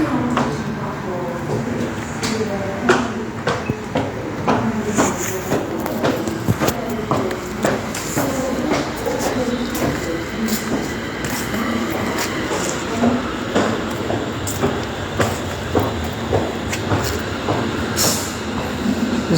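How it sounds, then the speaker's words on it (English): A London Northwestern Railway train rumbles into a station platform with rhythmic wheel clacks and metallic clatter. The sound is close and continuous, with a voice speaking over it. "This is London North Western going to London Euston."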